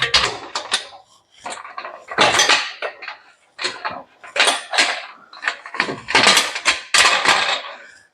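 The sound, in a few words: pressure canner lid being fitted and screws secured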